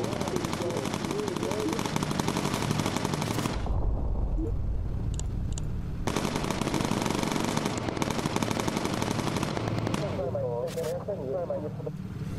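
Bursts of machine gun fire from a bomber's turrets in the aircraft combat game Bomber Crew, loud sustained rattling volleys with a short pause, under engine drone and someone talking.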